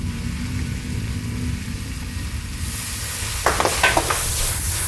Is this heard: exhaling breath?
no